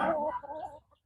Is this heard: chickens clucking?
yes